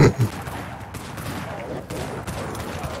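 Video game gunfire crackles in a dense, continuous burst of shots at steady loudness, with players talking over the shooting.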